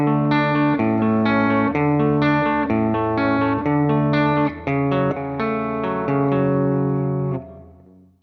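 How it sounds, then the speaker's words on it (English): Clean electric guitar through an amp playing an arpeggiated chorus pattern, ringing picked notes in a steady repeating figure that fades out on a final sustained chord. "It's played on an electric guitar that's running through a clean channel on an amp, and I don't really hear any other effects on it."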